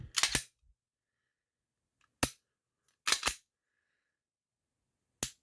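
Sharp, isolated mechanical clicks from a Glock 19 Gen 3 pistol trigger resetting, heard close up in small clusters: a double click, a single one, another double and a final single, with silence between.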